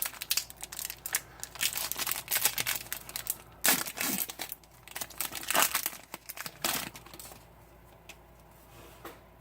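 Plastic wrappers of Pokémon XY Steam Siege booster packs crinkle and tear close up, bursts of sharp crackling with a few louder rips, tapering to quiet at the end.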